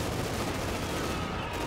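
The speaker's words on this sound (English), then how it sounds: "Scout car doing can, auto cannon unleashing hell grenades moving up support" Auto cannon gunfire from a scout car in the real-time strategy game Company of Heroes 2 comes as a dense, continuous rattle of rapid shots mixed with battlefield noise, fairly quiet and unbroken.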